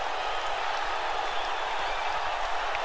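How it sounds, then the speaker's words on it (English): Arena crowd in the WWE 2K19 wrestling video game during a Royal Rumble match, a steady wash of cheering and applause holding at an even, moderately loud level with no voices above it. "The crowd waits patiently"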